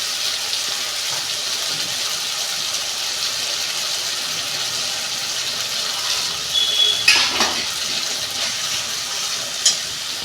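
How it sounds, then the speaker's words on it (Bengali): A paste of ground garlic and coriander sautés in a pan for chhola dal, giving a steady, even sizzling hiss throughout, with a brief clatter near the end. "যে মশলাটা পেস্ট করেছিলাম দিয়ে দিচ্ছি। আর 2 মিনিট আমি কষাবো।"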